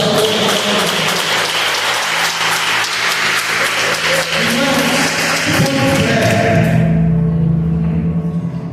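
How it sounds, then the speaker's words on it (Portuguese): A church congregation bursts into loud, dense applause at a Portuguese-language worship service, sustained for several seconds before cutting off sharply as organ or keyboard tones carry on alone. "Dá um aplauso para o nosso Deus."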